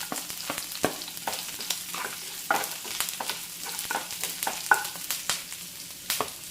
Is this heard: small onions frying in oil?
yes